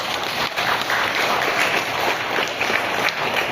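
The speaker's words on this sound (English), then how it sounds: "let's give our graduates a round of applause" A crowd at a Grade 6 graduation ceremony at a Christian academy applauds the graduates, producing a loud, dense, continuous wash of clapping that holds steady throughout.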